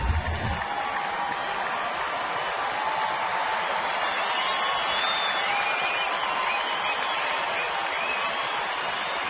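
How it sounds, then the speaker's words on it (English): Steady broad roar of a baseball stadium crowd at a Tampa Bay at Houston game, fans pulling for pitcher Wandy during a first-inning jam, sustained and fairly distant with no clear peaks. "Crowd pulling for Wandy now to get out of this first inning trouble spot"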